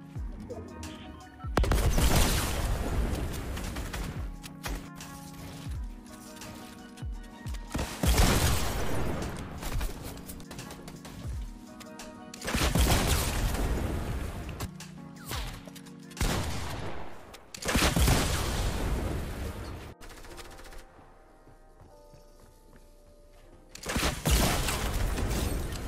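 RPG rocket launcher blasts in Fortnite burst out as repeated loud, crashing explosions spaced a few seconds apart, mixed with gunfire and a faint voice in the background.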